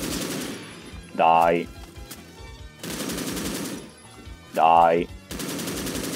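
Automatic gunfire in a shooter video game arrives in two sustained rapid bursts, each followed by a short vocal outburst from a player.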